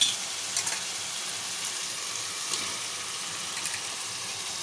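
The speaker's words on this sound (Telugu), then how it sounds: "ఇప్పుడు క్లీన్ చేసుకుని చికెన్ వేసుకోవాలి" Chicken pieces fry in a pan with a steady, moderately loud sizzle and a few faint stirring scrapes, no talking.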